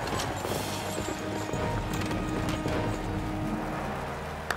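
Horses at a gladiator-style competition track on the Russian Gladiators show pound along in a steady, dense clip-clop of hooves, loud and continuous throughout with a busy crowd-like rumble beneath and no clear speech.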